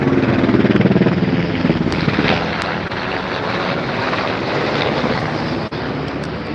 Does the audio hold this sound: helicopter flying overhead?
yes